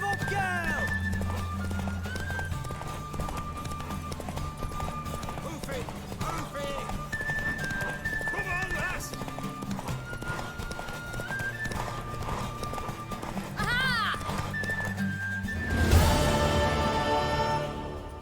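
Horse in The Witcher 3 galloping with steady clip-clop hoofbeats, closing with a loud whinny near the end, while characters speak over the hooves.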